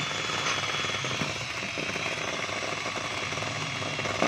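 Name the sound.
DeWalt DWP849X car polisher running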